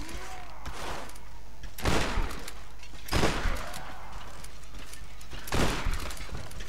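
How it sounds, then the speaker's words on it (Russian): Gunfire in the Tomb Raider video game, three bursts of loud shots spaced a second or two apart with ringing, echoing tails over a steady low in-game rumble. "Это не я выстрелил."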